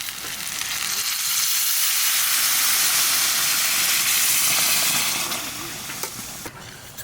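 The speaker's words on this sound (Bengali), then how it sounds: "এবার গরম জলটা দিয়ে দেবো।" Hot water poured onto sizzling mutton in a pan sets off a loud, broad hiss of steam that swells and holds for several seconds before tapering off.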